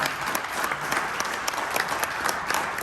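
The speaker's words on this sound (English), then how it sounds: "give yourselves a huge round of applause for being here" Sustained audience applause at a talk, dense steady clapping from many hands filling the room with no voices over it.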